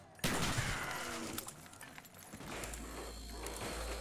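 Gunfire bursts sharply in Call of Duty Black Ops zombies mode on the Kino der Toten map, a loud crack followed by a scattered rattle of shots that fades into a low rumble.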